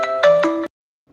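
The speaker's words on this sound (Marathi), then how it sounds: "मम्मीचा फोन आलाय एक मिनिट" Mobile phone ringtone for an incoming call in a home kitchen, a short chime of three or four quick bright tones, close and clear, then silence.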